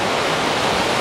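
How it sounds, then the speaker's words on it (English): Rough water crashing in a rocky bay: a loud, steady rush of broadband churning that holds evenly through the whole second, with no talk. "So you can see all of this nice rough water here."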